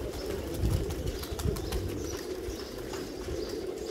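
Double-crested pigeons coo softly in a loft, low throaty calls blending into a steady murmur with a few faint chirps and rustles over four seconds.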